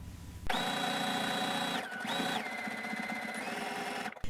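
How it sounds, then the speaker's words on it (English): Sewing machine stitching a tight zigzag around an applique design on a hoodie, a steady fast whirring hum with a short pause and restart, close and alone. "Set your sewing machine on a tight zigzag and go around your design in a matching color."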